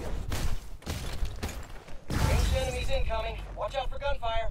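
Bursts of gunfire from enemies in the Spider-Man: Miles Morales video game during a fight with Uncle Aaron, rapid cracks mixed with game effects and a muffled player voice over them.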